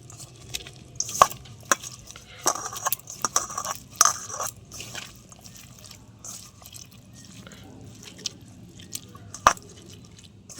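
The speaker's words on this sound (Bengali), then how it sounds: "সবগুলো উপকরণ আমি দিয়ে দিয়েছি, এবার খুব ভালো করে আমি মেখে নেব।" Boiled cauliflower being mashed by hand with spices, soft wet squelches and scattered sharp clicks at an irregular pace, fairly quiet and close, with no talk.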